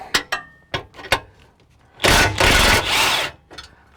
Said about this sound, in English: I will not, however, tighten it with the impact, but I'm okay cheating to use it to loosen.